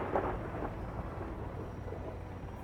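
Thunder from lightning in the video game Sons of the Forest, a low distant rumble that swells briefly near the start and then rolls on quietly, with no talk over it.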